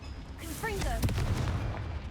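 A Confringo fire spell blasts in the Hogwarts Legacy video game, a single burst that booms out and then rolls on as a sustained low rumble, with a spoken voice just before it.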